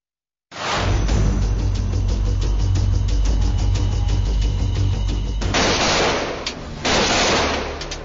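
Gunfire at the India–Pakistan border, loud dense bursts of rapid shots crackling near and continuous, with a brief pause before a final burst, no voices.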